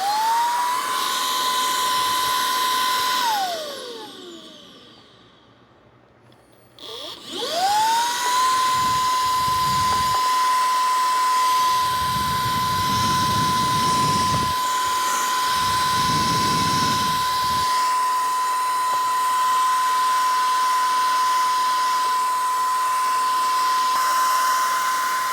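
A Dustin robot vacuum runs with a steady high whine from its motor, a brief drop partway as it cuts out and restarts, then continuous droning with low bumping noises.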